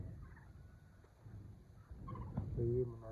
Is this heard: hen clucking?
yes